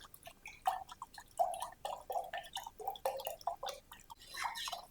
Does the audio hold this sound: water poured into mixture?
yes